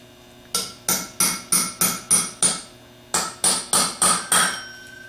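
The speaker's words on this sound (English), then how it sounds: "start tapping away so that there's stock removed all the way down to the bottom of the bushing" Tool tapping out a bushing on a 10MT starter being rebuilt, producing a steady series of about a dozen crisp, close metallic raps with a short pause midway.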